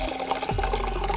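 Turmeric ginger tea pours steadily into a cup, a close, continuous splashing with the pitch shifting as it fills.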